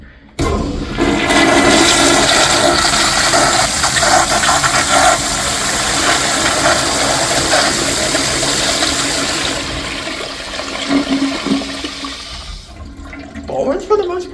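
A 3.5-gallon American Standard Cadet toilet on a flushometer valve flushes with a loud, sustained roar of rushing water for about nine seconds, then fades into gurgling refill sounds and a brief final surge.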